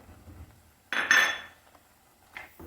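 A spoon stirs starfruit curry in a pot, giving one loud clinking scrape of metal against the pot, followed by a fainter clatter near the end.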